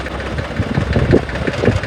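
A farm tractor engine idling close by in a short burst, a low, steady rumbling throb with slight rhythmic pulsing and no talk.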